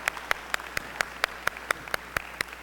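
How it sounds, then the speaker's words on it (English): Sparse, evenly spaced claps ring out in a basketball gym after a women's team session, about a dozen distinct hand claps at a steady rhythm, fairly quiet and slightly distant over faint room noise. "Round of applause for those ladies."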